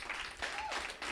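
Hackathon finalists at a township tech pitch event receive a brief burst of steady, moderately faint applause from the room.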